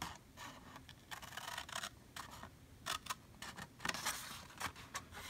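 Quiet, crisp snips and scratchy slices of scissors cutting a paper basket along its score lines, made on an envelope punch board, in short uneven bursts with brief pauses between cuts.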